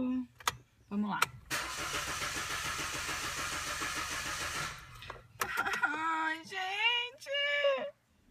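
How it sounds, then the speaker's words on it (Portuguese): A car engine cranks in a long buzzing burst of several seconds without catching, then gives shorter whining attempts near the end, all heard close up with voices speaking around it. "meu carro decidiu não pegar"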